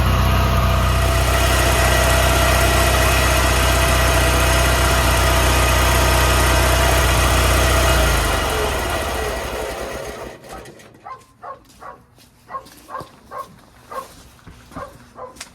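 Onan opposed twin engine on a Toro 616Z zero turn mower with a collapsed internal fuel line, running loud and steady up close, then winding down and fading into a sequence of rhythmic puffs and knocks.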